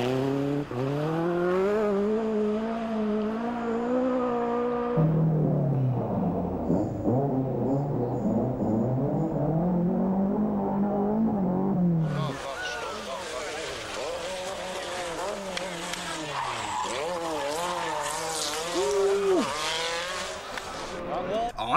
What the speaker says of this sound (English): Yo, you hear that car?